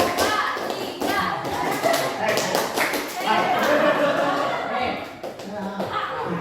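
A room of adult teachers-in-training clap together in a set call-and-response pattern, sharp hand claps landing in short rhythmic bursts between loud shouted chant words and a few chuckles, close and lively throughout.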